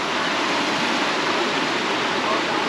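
Water rushing steadily over rocks at natural pools in Curití, Santander, Colombia, a dense broadband roar that holds loud and unbroken close by throughout.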